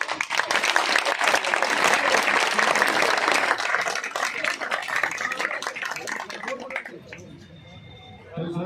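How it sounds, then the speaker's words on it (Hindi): Loud, dense applause from an audience at a public gathering in Jammu, sustained for about seven seconds before thinning out, with voices rising underneath as it fades. "जोरदार तालियां"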